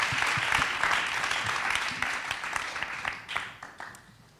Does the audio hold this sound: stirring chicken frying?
no